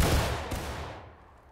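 A company fires a musket volley in the War of Rights video game: one loud, close burst of gunfire that fades into a short rumbling tail.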